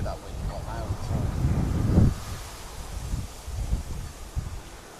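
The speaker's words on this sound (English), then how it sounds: "You can probably hear that wind quite loud as well." Blustery wind roars and buffets the microphone in low rumbling gusts at a fishing spot, with a stronger surge early on and softer gusts after.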